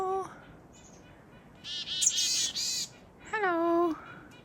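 A chickadee calls on a mountain hiking trail after rain: a few clear whistled notes, then a bright burst of rapid chattering, then another drawn-out whistle, near and distinct over quiet outdoor background.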